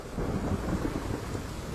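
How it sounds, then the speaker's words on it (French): Deep, steady rumble of a summer thunderstorm in the mountains, with rain-like hiss on top, sustained and fairly loud for under two seconds with no clear single crack. "la tempête arrive sans prévenir."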